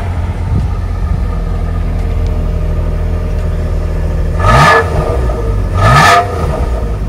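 A V6 rental car cruises with a low droning engine hum, then the engine surges twice in loud rising bursts of acceleration as the gears climb, heard from inside the cabin.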